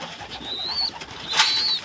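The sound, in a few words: pigeons cooing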